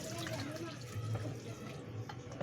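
Running tap water splashes steadily over dishes being washed in a sink, close and continuous, with a voice talking faintly under the water.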